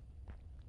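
A single soft footstep sounds in the horror video game GYLT, faint and brief against a quiet low background hum.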